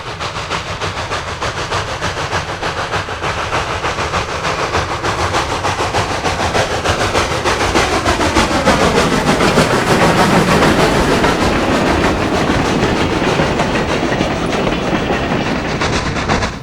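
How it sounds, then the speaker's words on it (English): B&O passenger train 254 of the 1950s, eastbound from Pittsburgh to Buffalo, crosses the Pennsylvania Railroad at Butler Junction in Butler, Pennsylvania. Its loud, continuous rumble and wheel clatter swell and hold close by throughout. "B&O passenger train number 254, eastbound through Butler, Pennsylvania, crosses the Pennsylvania Railroad at Butler Junction."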